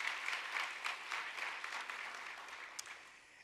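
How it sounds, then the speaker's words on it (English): An audience at a conference marking ten years of progress claps together in a steady, moderately loud round of applause that fills the hall and slowly fades a little. "How about a round of applause for yourselves?"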